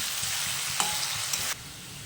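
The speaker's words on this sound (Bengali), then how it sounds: "আলুটা অলরেডি খুব ভাজা ভাজা হয়ে গেছে" Potatoes fry in a pan at home for dinner, a steady broadband sizzle with a couple of small pops, dropping to a quieter hiss near the end.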